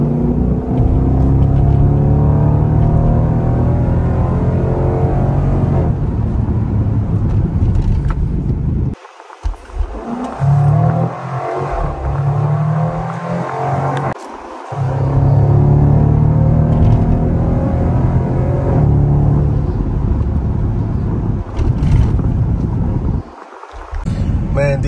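Dodge Durango SUV in track mode, its engine droning and rumbling steadily with strong wind noise, briefly easing off twice before pulling hard again.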